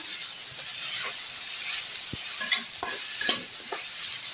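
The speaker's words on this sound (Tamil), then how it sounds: "தக்காளியை நல்லா வதக்கட்டும் இதிலே வந்து கறிக்கேற்ற உப்பு போட்டுருவோம்" Chopped tomatoes sauté in a hot pan with rock salt, giving a steady loud sizzle and hiss broken by scraping stirs of a spoon near the end.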